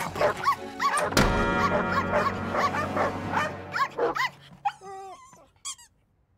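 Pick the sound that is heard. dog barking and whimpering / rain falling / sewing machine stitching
dog barking and whimpering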